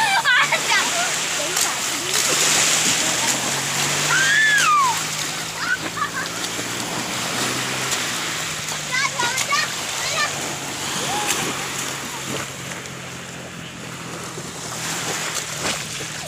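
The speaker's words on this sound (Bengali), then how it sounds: "ঢেউটা তো দেখ, ঢেউ খালি দেখো" River waves splash and lap around bathers, giving a continuous watery wash with occasional splashes under close, lively voices talking.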